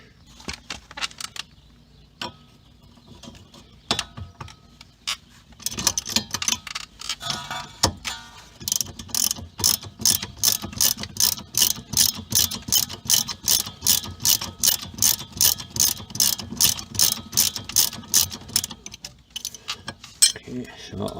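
A wrench ratchets rapidly on the rear brakes of a 2010 Ford Fusion, a long run of sharp metallic clicks in fast regular rhythm after scattered clinks and handling noises.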